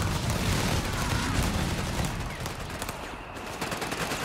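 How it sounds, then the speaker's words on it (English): Bundle grenade blasts and rattling gunfire in a Company of Heroes 3 2v2 match, dense continuous combat noise that eases slightly toward the end. "Good AoE on those bundle grenades."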